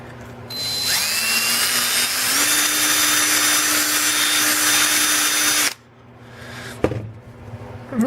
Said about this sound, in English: Where's my drill?